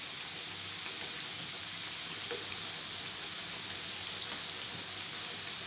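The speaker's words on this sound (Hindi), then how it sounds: "पलट कर इसे भी थोड़ा फ्राई होने देते हैं।" Bitter gourd (karela) slices frying in hot oil, a steady dense sizzle like light rain, continuous and fairly close with no talking.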